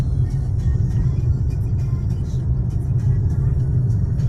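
Skoda Octavia Tour car driving on a road, a steady loud low engine and road rumble throughout with no clear gear changes, under faint cabin noise.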